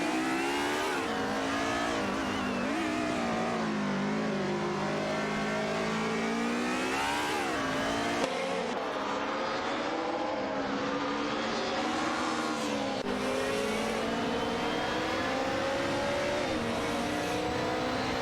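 Race car engines from an AI racing game drone and rev continuously, a dense layered roar with shifting pitch as several cars hold speed and pass, loud and steady for the whole stretch with no talk.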